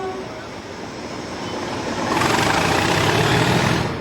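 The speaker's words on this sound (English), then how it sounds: "he is keen to give his engine some thrash." A 1980s car engine being revved hard, a loud rough roar that builds and swells over a few seconds, heard close and alone.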